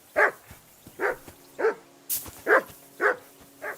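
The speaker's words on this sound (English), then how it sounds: "I assume you can hear that damn dog of yours barking." Mutt, a dog in Kingdom Come: Deliverance II, gives six evenly spaced barks at a steady rhythm, fairly close and moderately loud, with no talk.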